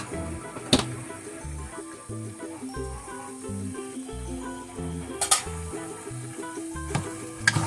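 Beef liver seasoned with chicken seasoning cube, black pepper and cayenne sizzles steadily in a pan while being stirred, with a few sharp scraping knocks, all under a bed of background music.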